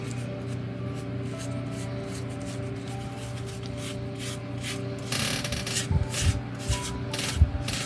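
Close, steady rubbing and rasping as excess filler is worked off the wooden hull of a 1:100 scale ship model by hand, growing louder and coarser with a few sharper scrapes toward the end.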